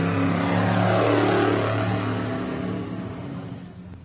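A Baja 500 off-road race vehicle's engine roars at the start line, a loud, dense, harmonic drone that holds steady and then slowly fades as the vehicle pulls away, with no voices over it.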